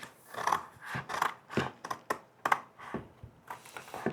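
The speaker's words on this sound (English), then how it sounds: "let's go ahead and get this cut out." Scissors snip through sun visor upholstery fabric in a steady run of crisp, separate cuts, roughly two per second, close and moderately loud with no talking.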